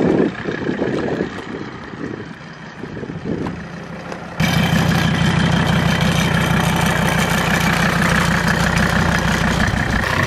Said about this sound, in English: whatever you're hearing is that the engine sounds very,